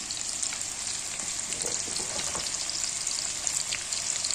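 Potatoes and salt are added to hot oil in a frying pan, producing a loud, continuous close-up sizzle with faint stirring and no talk.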